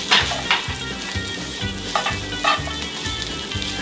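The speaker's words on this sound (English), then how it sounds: "we're going to put these caramelized onions in here. Just going to mix that all in." Caramelized onions being stirred into sizzling bacon grease in a pan, a steady close sizzle with rhythmic scraping strokes of a utensil against the pan roughly twice a second.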